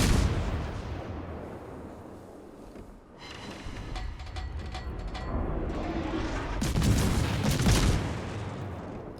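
Naval guns boom in World of Warships, with heavy artillery salvos and explosions rolling out in dense bursts, loud and close, the barrage swelling again near the end.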